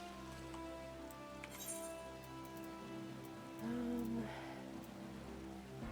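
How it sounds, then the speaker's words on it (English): Steady rainfall in the video game Final Fantasy XIV, a continuous soft patter under ambient game music with a brief louder swell partway through. "Ooh, it's raining."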